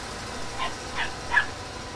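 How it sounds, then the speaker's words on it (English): Three short, faint yips from a puppy in the platformer Limbo, evenly spaced and quiet over a steady low background hiss, with no talking. "That's of course my puppy."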